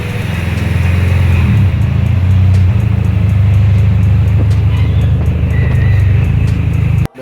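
A race car driven by one of Jamaica's fastest drivers pulls away, engine roaring loud and close with a sustained droning tone that shifts in pitch, holding steady before cutting off abruptly at the end.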